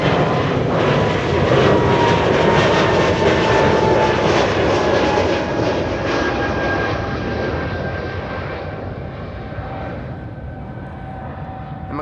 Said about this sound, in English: E2 Embraer